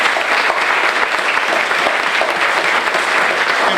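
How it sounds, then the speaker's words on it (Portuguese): Dense audience applause, loud and even throughout, a continuous wash of many hands clapping with no voices standing out. "Uma salva de palmas para a André."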